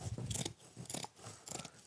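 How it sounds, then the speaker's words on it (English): Scissors snip through mosaic mesh in three separate crunchy cuts, close and fairly quiet, with short pauses between strokes and no talking. "A pair of scissors."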